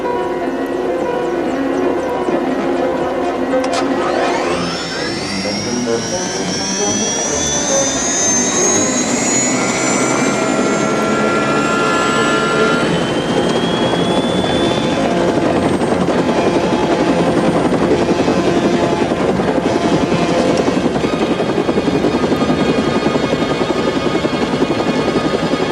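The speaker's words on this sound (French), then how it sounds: "L'hélico vient d'être détourné!" A helicopter roars close by, its loud turbine whine rising in pitch over a dense, steady rotor and engine rumble that continues without letup.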